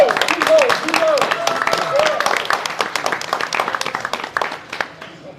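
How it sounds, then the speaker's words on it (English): Applause for restaurant staff at a Black men's roundtable gathering, a dense round of clapping from a crowd that carries on steadily for several seconds, with voices talking over it throughout. "Let's give them a round of applause."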